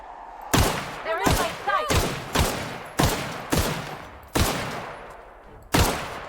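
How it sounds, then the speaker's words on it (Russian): Sniper rifle shots fire in The Outer Worlds, about eight loud, sharp cracks spaced roughly a second apart, each trailing into a short echoing decay, with a brief voice between the early shots. "Сейчас снайперскими выстрелами."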